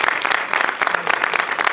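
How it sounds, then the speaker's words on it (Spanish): Brief burst of studio audience applause during a film cast interview, a dense patter of many hands clapping at close range, fairly loud and steady. "Un aplauso para Vero de maquillaje."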